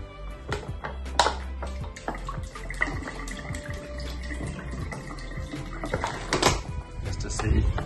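Water pours from a tap into a newly installed bathroom sink in an Italian villa during a test pour, splashing and running steadily, with scattered clicks and knocks throughout.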